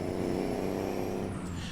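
Marmon truck in a video game, fitted with a Johnny Cash engine pack, holds a steady, loud, deep engine drone with a rough throbbing texture, running alone without talk.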